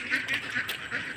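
Ducks quack a few times at close range over a short outdoor stretch, the calls loud and clear with no talking.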